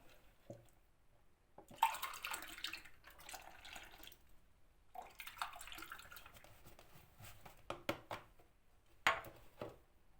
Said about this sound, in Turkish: 3 su bardağı da süt koyacağım